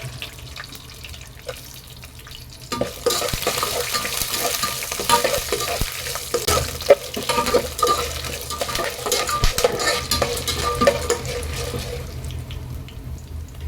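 Peanuts and two dried red chillies fry slowly in hot oil for lemon rice, a steady close sizzle with the scrape of a stirring spoon that swells after a few seconds and eases near the end.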